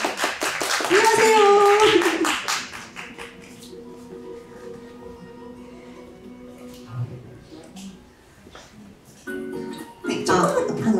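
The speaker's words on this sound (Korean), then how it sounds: "박수로 맞이해 주십시오" Clapping greets a guest illustrator as she is welcomed on stage at a talk, a burst of hand claps at the start under a host's voice, then quieter room sounds and a greeting from a speaker.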